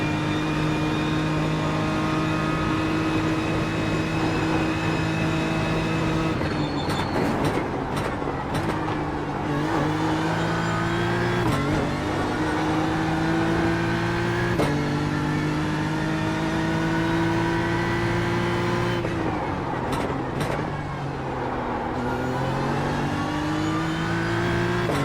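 A BMW GT3 race car in a racing game laps Mount Panorama, its loud engine revving up continuously and dropping sharply at several gear changes, close and alone with no talk.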